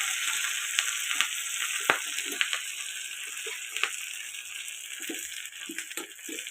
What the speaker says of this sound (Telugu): పేలుతుంది చిటపటా చిటపటా అని.